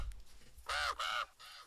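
Crows cawing in the video game Fall, three loud harsh caws in quick succession, the last one softer, over a quiet background.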